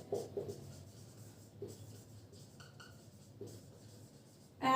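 Pen writing on paper during a Hindi-language biology lesson on the heart's chambers, heard as soft, close scratching strokes in short bursts with brief pauses, ending in a louder knock.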